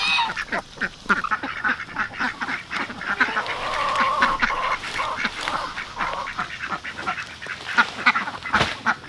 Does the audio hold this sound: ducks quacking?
yes